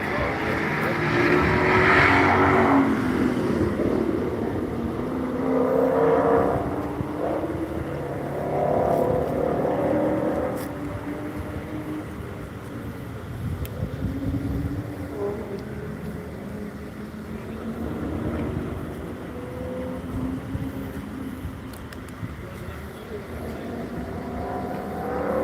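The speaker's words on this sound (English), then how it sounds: "Here comes the Red Bull Audi finishing up lap number 1." A Red Bull Audi race car on a speedway passes with a rising and falling engine roar, heard under ongoing talk.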